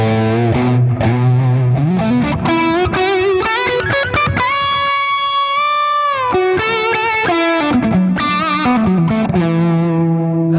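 Sustained electric guitar lead played through a Lone Star amp with no pedals in front, bass nearly off, drenched in echo and looped layers; loud, continuous melodic notes with a long held tone in the middle, no talking.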